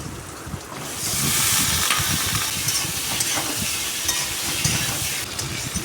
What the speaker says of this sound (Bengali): আমি এখন আলুটা দিয়ে দেবো।